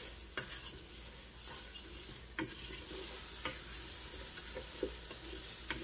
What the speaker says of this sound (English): That sizzling means it's working.